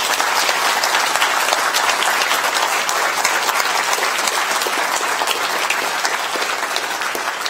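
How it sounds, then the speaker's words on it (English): Dense, steady applause from a large audience at a live public science talk about planning the Cassini mission's Grand Finale, loud and continuous with no break, no speech. "so give them a round of applause, too."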